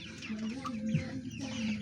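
Broiler chickens cluck softly and continuously close by during morning feeding, with a few higher chirps mixed into the low, murmuring calls.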